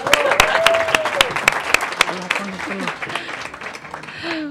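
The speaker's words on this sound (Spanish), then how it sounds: "Y un aplauso para ellos." Audience applause at an awards ceremony, a dense burst of clapping from the crowd that carries on steadily before thinning out, with voices heard through it.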